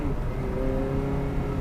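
A Ferrari 360 Modena engine revs with a deep, continuous growl, steady and close throughout a short burst, with no voices.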